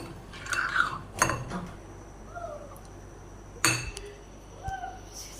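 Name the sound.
ice cream mixture beaten with a spoon in a bowl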